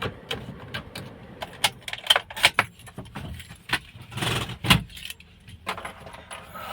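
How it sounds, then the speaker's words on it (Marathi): Keys jangle in a rapid series of bright metallic clinks and rattles while a vehicle is being locked, close and fairly loud, with a few sharper knocks in between and no talking. "गाडी इथं लॉक करून टाकू"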